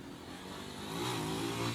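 A motorcycle engine revs and strains as the bike tries to climb a slippery uphill slope, a low rising drone that swells toward the end, heard faintly from a distance with no talk over it.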